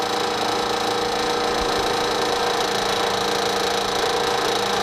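A three-phase AC motor runs steadily at about 1700 RPM, giving a constant, loud whirring hum with a mechanical buzz that stays unchanged throughout.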